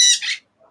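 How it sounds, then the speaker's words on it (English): Birds let out a loud, close, harsh squawk that lasts under half a second, followed by a faint short call and then silence. "even with these loud ass birds"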